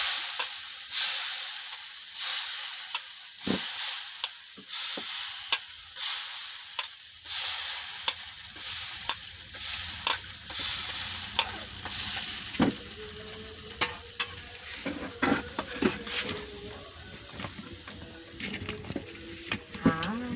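Chita pitha batter hitting an oiled hot pan, a loud hiss that flares with each pour and settles into a steady sizzle, with repeated light taps and scrapes against the metal.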